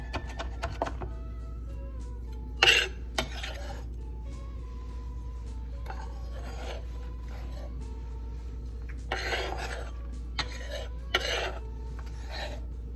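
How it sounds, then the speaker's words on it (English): A knife finely chopping fresh parsley leaves on a board, heard as a few scattered bursts of quick, crisp cuts close by over a steady low hum, with quiet pauses in between. "you'll want to finely chop your parsley leaves"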